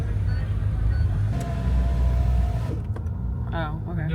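Power windows of a rented Honda NSX whir shut with a thin, steady motor whine over the low rumble of the idling engine inside the cabin, followed by people talking.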